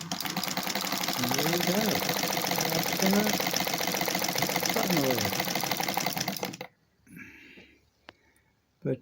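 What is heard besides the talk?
old Singer sewing machine running with new motor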